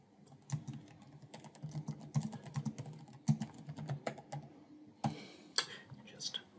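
Keys clatter on a computer keyboard in steady bursts of typing, close and moderately loud, with a person talking softly over part of it.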